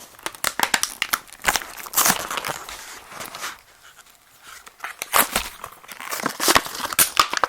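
Package of adhesive wound-dressing tape being opened by hand: close, irregular crinkling and tearing bursts of plastic wrapping, with a short lull midway before more rustling and crackling.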